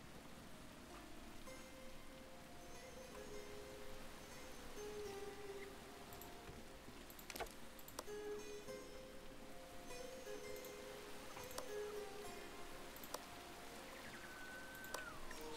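Steady rain in a video game during the rainy season, a soft continuous patter of drops on surfaces throughout, with faint game tones and occasional small clinks in the background.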